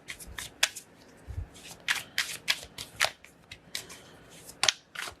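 Oracle cards are shuffled by hand, a series of crisp riffling bursts at an uneven rhythm, fairly close and clear, with no talking.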